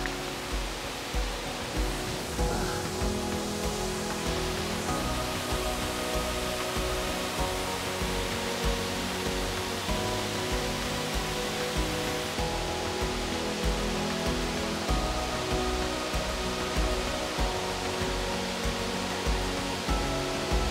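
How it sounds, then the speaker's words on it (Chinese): Curtain-style waterfall at Yuemeikeng in Jiaoxi, Yilan, its water spreading wide as it falls, roaring as a steady, dense wash of noise close by that holds level throughout with no voices over it. "那这个瀑布呢跟其他瀑布不一样，它是帘幕式的，你可以看到整个水流啊，它是散开来的。"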